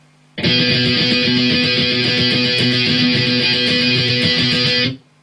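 Distorted electric guitar plays a simple octave shape, the bridge of a song, as a loud, steady sustained strum lasting about four and a half seconds, then cutting off cleanly.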